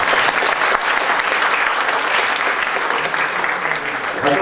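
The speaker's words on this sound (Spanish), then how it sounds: "lo vamos a despedir con un fuerte aplauso" Loud, dense audience applause at an event, steady and sustained from start to finish with no pauses.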